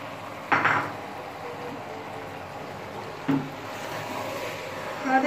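Roughly chopped tomatoes added to a pan of jackfruit curry, heard as a couple of clattering thuds into the pan separated by a quiet stretch, with a faint kitchen hum in between.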